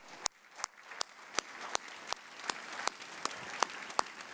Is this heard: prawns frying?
no